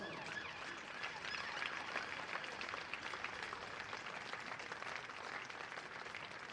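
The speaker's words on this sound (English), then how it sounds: "Let's have a big round of applause for both sets of players and both clubs" A crowd applauds both teams after the last-ball finish of an under-19 club T20 cricket final in Somerset, a faint, distant, steady patter of clapping.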